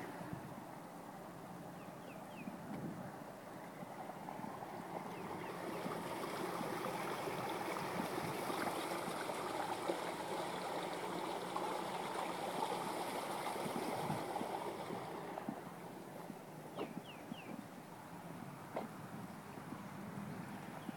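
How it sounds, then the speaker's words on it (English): Creek water rushing and gurgling in a steady broadband wash, swelling louder in the middle before easing back, with no voices. "Same creek."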